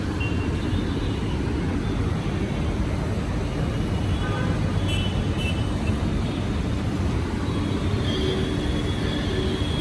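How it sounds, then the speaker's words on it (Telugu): A local train rumbles past close by in Chennai, a loud, continuous roar of wheels and carriages that holds steady throughout. "చూడండి లోకల్ ట్రైన్లు కూడా అలాగే వస్తున్నాయి"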